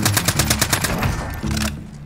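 Rapid SMG bursts in Call of Duty Warzone: two sustained strings of fast, evenly spaced shots, loud and close, separated by a short gap, with a brief tail after the last burst.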